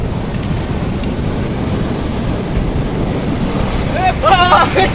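Sea waves wash and roar under gusty wind buffeting the microphone, with a brief burst of voices near the end.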